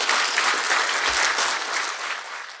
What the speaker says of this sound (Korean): 큰 박수로 수상자를 축하해 주시면 감사하겠습니다.